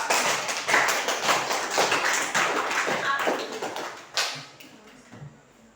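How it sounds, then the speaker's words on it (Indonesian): A classroom of students claps together in a dense, steady burst of many hands that holds for about four seconds, then thins out and fades to a few scattered claps. "Tepuk tangan semua."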